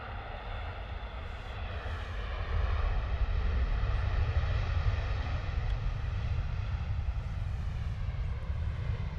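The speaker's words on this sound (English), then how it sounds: "not much noise from that Ryanair 737 on its touchdown with reverse thrusts on" A Ryanair Boeing 737 arriving from Dublin touches down at London Stansted with reverse thrust, a broad steady roar that swells partway through and holds, heard from a distance.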